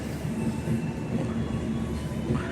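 The Senja Utama Solo passenger train, with a stainless steel new generation trainset, runs steadily on rails, giving a continuous loud rumble with rhythmic wheel noise, heard up close from inside the carriage.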